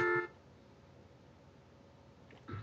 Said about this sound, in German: und hupt sie vielleicht nochmal an.